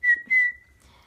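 A whistled signal meaning no, from a home-made whistling language: two short, bright, steady whistle notes in quick succession, close and clear, with no talking.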